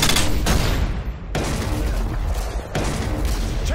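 Heavy gunfire and booming blasts in a Call of Duty Modern Warfare 2 (2009) multiplayer match, a loud stun grenade bang cutting through sustained rapid shooting, with a second sharp burst later and dense continuous firing throughout.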